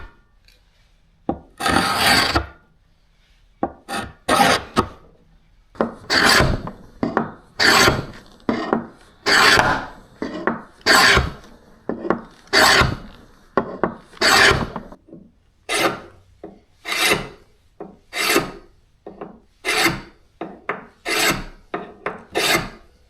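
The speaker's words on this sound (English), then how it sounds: "We've got her down to 120 grit sanded" A military shovel being hand-sanded with 120-grit sandpaper, giving a series of loud, close rasping strokes in a steady back-and-forth rhythm with brief pauses between bursts.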